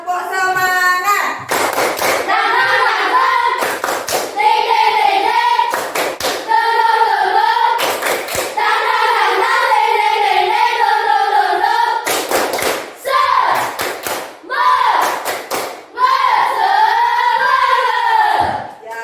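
A class of schoolchildren performs a rhythmic clapping chant, tepuk semangat, with sharp unison claps in short patterned bursts between voices chanting and calling out together, loud and close throughout.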